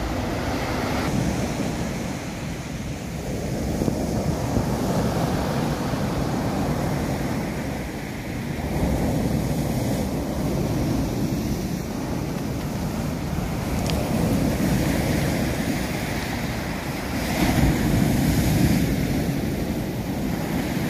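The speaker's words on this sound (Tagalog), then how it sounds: "Saka ngayon maalon ngayon. Oh, ganda tingnan ng mga alon. Wow, malaki ang alon." Sea waves breaking and washing over a pebble beach at a resort in Surigao on a rough day, a continuous loud roar of surf with surges and wind buffeting the microphone, no talking.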